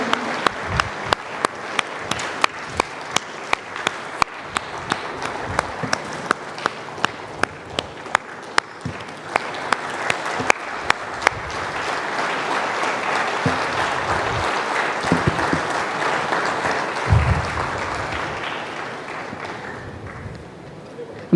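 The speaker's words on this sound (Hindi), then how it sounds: "दोस्तों तालियां बजती रहनी चाहिए, तालियों की गड़गड़ाहट में कमी नहीं होनी चाहिए।" Sustained audience applause at a chief minister's public event in Uttar Pradesh, a dense crowd roar of clapping with sharp individual claps standing out early, then a steady loud wash of hands that fades slightly toward the end.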